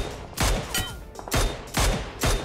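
PUBG Mobile gunfire on the desert map: four or five loud, close rapid bursts of automatic shots spaced roughly half a second apart, with brief quieter gaps between them.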